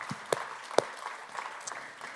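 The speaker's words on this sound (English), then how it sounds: "Why don't you give yourselves a round of applause?" Small audience at a live session applauds itself, a sparse, fairly quiet clapping with a few sharp individual claps standing out.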